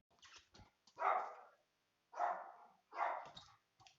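A pet dog barks three times at close range in a quiet room, each bark short and sharp, with a few faint yips around them.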